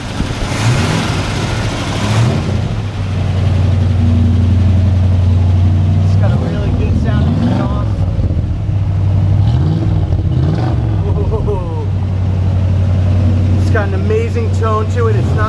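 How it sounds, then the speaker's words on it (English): A 1951 GMC 3100 Stepside pickup engine idles smoothly and steadily up close, with a constant low hum under someone talking throughout. "As you can see, it starts right up,"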